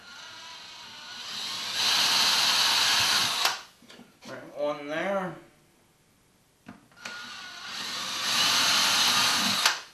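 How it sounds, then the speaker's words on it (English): A power drill whirs in two bursts of a couple of seconds each, drilling pilot holes in a dust collector unit, with someone speaking briefly in the quiet gap between them. "I'm going to go ahead and drill a pilot hole"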